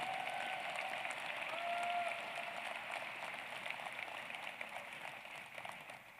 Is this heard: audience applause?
yes